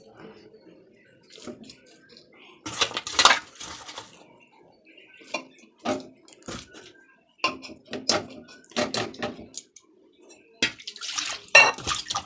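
A bowl being rinsed and washed with water in a home kitchen: intermittent splashes, pouring and clinks of the bowl, loud bursts separated by quiet gaps, close by.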